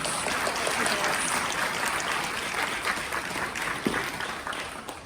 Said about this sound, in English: we just give her another big round of applause